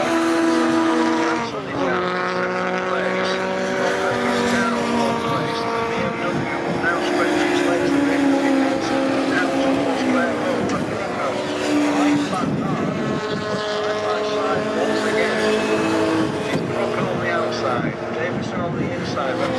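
Pre-1983 Group 1 touring cars, including a BMW, race at Croft, with several engines howling and rising and falling in pitch as the cars pass and shift gears, under continuous commentary.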